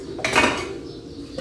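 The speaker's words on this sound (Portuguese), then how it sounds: "Vou dar uma organizada aqui antes também, essas panelas." Pots and pans are arranged in a home kitchen, with one loud metallic clank and rattle up close, a short ringing decay, then a lighter knock near the end.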